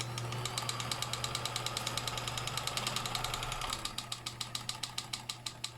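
A stuck Kenmore machine runs rough with a steady, rapid mechanical knocking and ratcheting clatter over a low hum, the rhythm slowing slightly near the end; close and fairly quiet, no voices.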